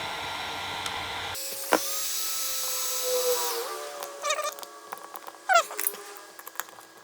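Power driver whirring in short bursts while screws go back into a Ford Bronco center grab handle, with a longer steady run followed by several brief close-up spurts and clicks.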